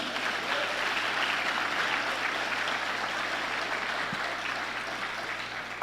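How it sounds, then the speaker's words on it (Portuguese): A church congregation claps steadily and loudly for several seconds during a sermon, a dense, even wash of applause with no talking. "Vamos aplaudir o Pai nessa manhã?"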